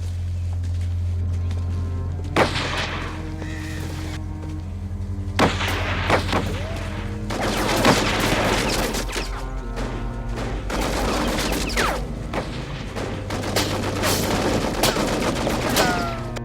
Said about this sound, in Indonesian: Dan tembakan pun mulai menarget mereka.